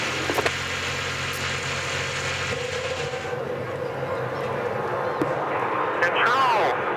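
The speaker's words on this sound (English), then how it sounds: "Drivers, start your engines!" IndyCar race engines at the 2010 Toyota Grand Prix of Long Beach rumble in a continuous low drone, with a few revs rising near the end and voices talking over them.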